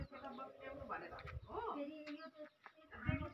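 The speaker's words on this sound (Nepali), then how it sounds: "चराचुरुङ्गी कराउने, ढुकुरहरू कराउने।" Doves cooing and small birds calling around a village garden near maize fields, soft repeated coos and chirps in the open air, with a person talking over them.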